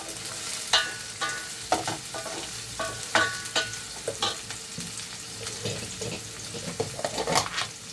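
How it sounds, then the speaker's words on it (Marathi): Chopped onion is stirred and sautéed in a pan, with a continuous sizzle broken by frequent scraping and clacking strokes of a spoon, close up and without speech. "तर हे कांदा ना मस्त असं मऊ करून घेऊया"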